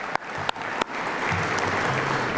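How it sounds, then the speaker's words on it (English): Banquet audience applauding: a few scattered early claps, then dense, sustained clapping swells and holds steady as the crowd joins in, with a faint murmur of voices beneath. "You can clap about this one."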